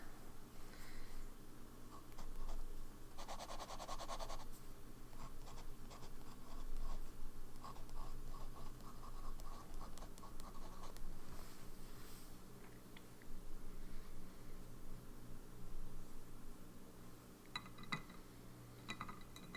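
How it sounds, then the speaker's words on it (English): Fountain pen nib loaded with Birmingham Pen Company ink scratching across paper, soft continuous writing strokes with faint clinks in a quiet room, no talking. "We have lots of ink on this nib."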